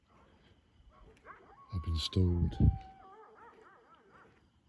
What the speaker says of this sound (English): you hear the dogs?